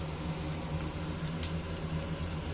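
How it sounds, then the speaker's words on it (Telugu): Onion and curry leaves fry in oil for a tamarind leaf dal, producing an even, continuous hiss of bubbling oil that holds steady throughout with no talking. "ఆనియన్ ఫ్రై చేసుకుందాం గోల్డెన్ కలర్ వచ్చే వరకు ఫ్రై చేసుకుందాం"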